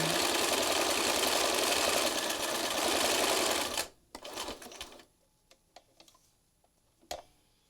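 A sewing machine stitches through a mixed-media collage card in a fast, close, rattling run that stops abruptly after about four seconds, followed by scattered light clicks and handling taps.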